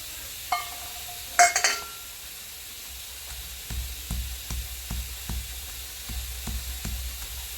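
Peanut chutney with garlic being stirred and ground by hand, turned over and over: a few clinks early on, then a steady run of soft, regular thudding strokes, close and moderately quiet.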